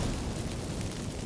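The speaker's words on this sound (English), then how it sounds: "Get ready for some magic fireworks." Magic fireworks burst from activated incense in The Witcher 3 video game, a dense, roaring crackle of noise that fills the short moment at steady loudness.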